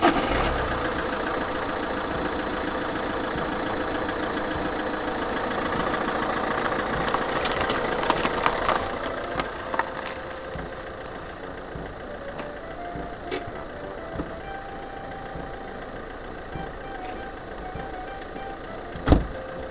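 A car engine runs steadily with snow chains fitted as the car rolls a few metres on snow, a continuous mid-range hum with some knocking texture and a sharp knock near the end.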